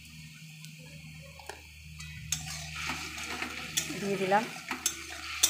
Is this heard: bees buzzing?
no